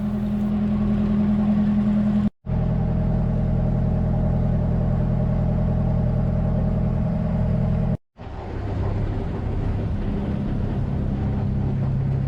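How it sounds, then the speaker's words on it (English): Steady low engine hum from a small ferry on the Mekong Delta near Ho Chi Minh City, droning continuously and close, with no voices and two brief dropouts. "the hum of the engine of our small ferry"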